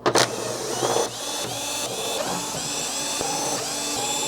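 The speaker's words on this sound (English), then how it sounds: "Next we're going to remove the screws from the back cover" A power screwdriver backs screws out of the back cover of a Hisense 65H6570G TV lying face down on a workbench, whirring in short bursts close up, with a few clicks and clatters between runs.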